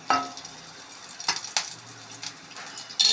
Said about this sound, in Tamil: பச்சை மிளகா நல்லா பொரியணும், பூண்டு நல்லா வதங்கணும்.